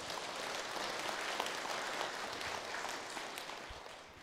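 Applause from a temple congregation at a Sunday Buddhist dharma service, a steady, dense wash of clapping from many hands that holds evenly at moderate volume throughout.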